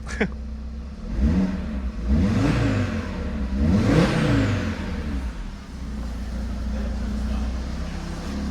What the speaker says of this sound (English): It's cold, just rev it up.